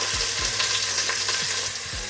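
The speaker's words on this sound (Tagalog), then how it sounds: "add na natin yung ating onions and garlic." Onions and garlic frying in hot oil in a pot for a beef stew (mechado), giving a steady loud sizzle with a few stirring scrapes and no talking.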